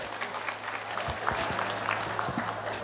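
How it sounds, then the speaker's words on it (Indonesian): An audience at an SMK Swadaya school expo in Temanggung claps for the school, a short burst of scattered applause over a low hum, with a few cheers mixed in. "Tepuk tangan untuk SMK Swadaya"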